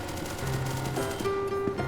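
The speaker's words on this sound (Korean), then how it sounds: "총소리" Gunfire in a horror video game: bursts of shots layered over tonal game music and steady background noise, moderately loud with no voices.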